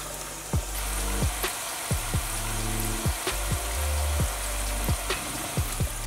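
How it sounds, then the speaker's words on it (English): Freshly cut corn tortillas fry into chips in hot oil, a constant sizzle and bubble broken by repeated clanks and scrapes as the pieces are moved and stirred. "it is now time to fry up some freshly cut corn tortillas into some freshly fried chips"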